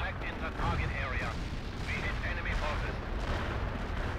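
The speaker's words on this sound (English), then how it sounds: "this incredibly overkill barrage is done" An artillery barrage in the video game World in Conflict: Soviet Assault, a dense run of booming blasts and rumbling impacts rolling on steadily under continuous talk.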